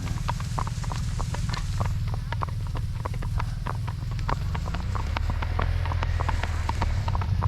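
A horse on a 20 km cattle drive walks slowly, its hooves clip-clopping in a steady, evenly spaced rhythm, close and clear over a low continuous rumble.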